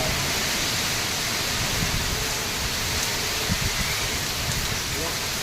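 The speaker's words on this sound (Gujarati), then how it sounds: "વરસાદ પડે જોરદાર" Heavy, unrelenting monsoon rain pours down outdoors as a steady, even hiss that fills the whole stretch without a break, loud and close, with no voices.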